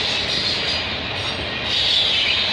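CN freight train M301 passing at Burlington Junction near Oakville, a continuous loud roar of rolling cars with a bright metallic hiss, steady and close, no talking.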